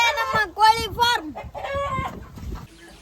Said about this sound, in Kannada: ಇದೇ ನಮ್ಮ ಕೋಳಿ ಫಾರ್ಮ್